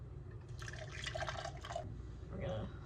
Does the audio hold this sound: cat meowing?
no